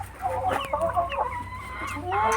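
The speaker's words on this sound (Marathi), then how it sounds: "खालच्या बाजूला देशी कोंबड्या आपल्या दादांनी सांभाळलेल्या" Desi chickens kept in the lower level of a small elevated goat and poultry shed cluck and call in short overlapping bursts near at hand, over a low steady hum.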